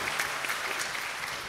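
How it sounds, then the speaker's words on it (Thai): Audience applause at a business seminar on internal control in Thailand, a short steady burst of many hands clapping at moderate distance, filling the room evenly without a break. "ขอเสียงปรบมือ"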